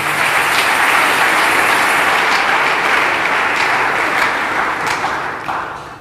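A church congregation claps and acclaims the Lord, a loud steady burst of applause that holds evenly, then tapers off at the end.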